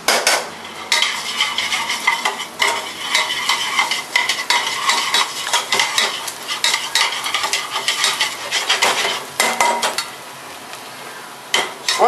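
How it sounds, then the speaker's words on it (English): Shallots sprinkled with sea salt sweat in a pan, giving a steady close sizzle broken by repeated scraping and clinking of a utensil stirring against the pan. "Sweating some shallots, y'all."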